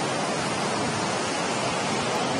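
Roaring, continuous rush of Jog Falls in Shivamogga, Karnataka, swollen by heavy monsoon rain, a loud, dense wall of falling water with no pauses.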